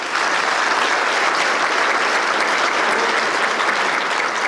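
An audience at a Douglas-Coffee County Chamber of Commerce annual event applauds a senator and state representatives, a dense, steady wash of clapping that stays loud and even throughout.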